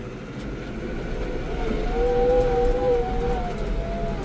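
A tractor pulling a tiller through hard, compacted field soil in gear, giving a steady low engine drone with a rising mechanical whine partway through, loud and continuous with no talking.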